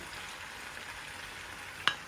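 Steady frying sizzle with a faint scraping as eggplant, potatoes, okra and zucchini are stirred in a pan, ending in a short sharp clink of a utensil.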